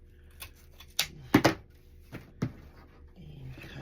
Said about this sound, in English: Pull this out and cut the ribbon.